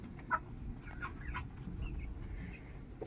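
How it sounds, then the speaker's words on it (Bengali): Chickens in a hot coop giving faint, scattered clucks and soft calls at a distance, with one brief louder note near the start, over a low background hum. "এখন বাইরে প্রচুর গরম তাই জন্য মুরগিগুলো একটু হাঁপাচ্ছে"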